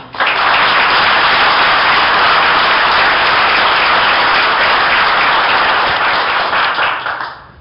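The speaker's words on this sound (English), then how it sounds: "give him a round of applause" A crowd at a professional 8-ball pool exhibition applauds a player's introduction, loud and dense, holding steady for several seconds before tapering off at the end.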